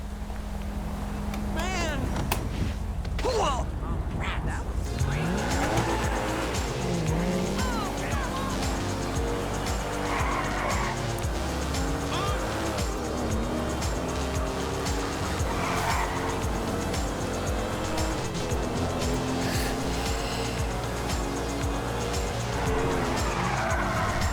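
A Porsche races through GTA V with a steady, loud engine roar and repeated tire squeals and skids. The noise runs unbroken throughout, and other game sounds are mixed in.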